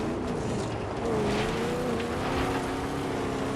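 A car engine roars steadily in a first-person shooter game, a continuous motor drone with shifting pitch and gritty noise, loud and close for a few seconds without speech.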